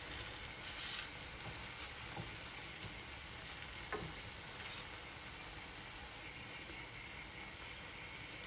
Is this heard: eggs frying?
yes